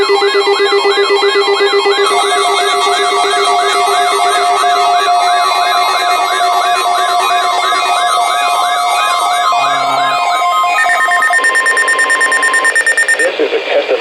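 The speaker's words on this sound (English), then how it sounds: "This is a test of the Weather Service weather radio warning alarm" A Weather Service weather radio warning alarm test for the north central Ohio listening area blares as a loud, steady warbling electronic tone with layered pulsing harmonics, shifting pitch near the end, with no voices over it.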